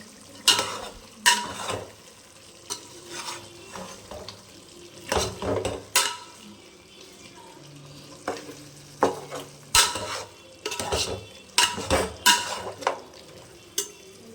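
Biryani stirred in a pot once the lid comes off: a spoon scrapes and clatters against the metal in irregular bursts over a soft background sizzle, with no talk.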